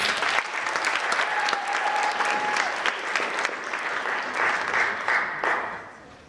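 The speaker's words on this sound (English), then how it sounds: "Let's give them one more round of applause." A crowd claps steadily for a second round of applause for performers at a DYW Brookfield-Elm Grove event. Thick, continuous clapping carries on at an even level with no voices on top.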